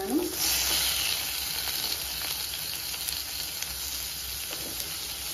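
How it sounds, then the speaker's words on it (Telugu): Tomato drops into onions already frying in a pan, setting off a loud burst of sizzling that settles into a steady hiss with light stirring sounds. "ఇప్పుడు టమాటా వేసుకుంటున్నాను."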